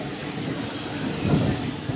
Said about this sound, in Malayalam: നമുക്ക് സമാന്തരമായിട്ട് വേറെയും ലോക്കൽ ട്രെയിൻ പോകുന്നത്